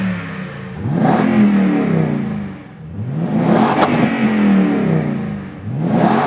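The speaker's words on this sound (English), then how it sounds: "the Rough Country dual side and rear exit exhaust system with black tips" A Toyota Tundra pickup with a Rough Country dual side and rear exit exhaust revs up twice, rising to a deep throaty roar and falling back between pulls, loud and close.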